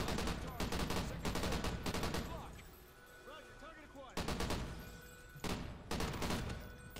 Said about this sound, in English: now I pick up a fucking machine gun again.